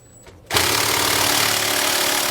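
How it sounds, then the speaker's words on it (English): A power tool spins a 21mm socket to remove the lower bolts of a rear anti-sway bar on a 2017 Fleetwood motorhome. After a brief quiet moment it bursts into a loud, steady, close whir that runs to the end. "We're going to use a 21mm socket to remove those."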